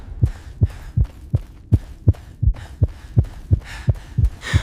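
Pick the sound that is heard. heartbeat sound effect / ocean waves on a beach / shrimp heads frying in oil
heartbeat sound effect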